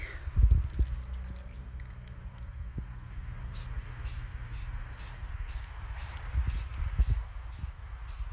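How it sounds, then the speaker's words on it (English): A can of Satin Wildflower Blue 2X Ultra Cover paint hisses in a series of short, evenly spaced bursts onto a pumpkin, close by, with light handling knocks underneath. "So let me start spraying it."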